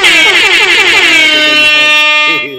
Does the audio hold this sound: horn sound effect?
yes